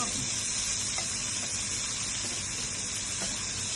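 Lamb and pork searing in a hot pan for cassoulet, a steady broadband sizzle with soft crackles holding level throughout, a faint voice buried low beneath it.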